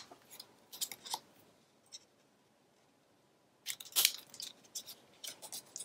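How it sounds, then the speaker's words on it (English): Scissors snip excess paper off a scrapbook page in two quiet clusters of crisp, close cuts separated by a silent pause, with no talking. "Now I'm going to trim off my excess because this is going to be the top."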